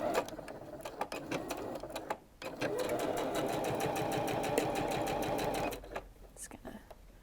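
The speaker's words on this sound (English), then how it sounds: "we're going to sew that with the 3/8 inch seam allowance" Sewing machine stitching a fitted fabric face mask seam at a 3/8 inch allowance, a steady close whirring run after a brief stop, with a short pause and some handling noise at the end.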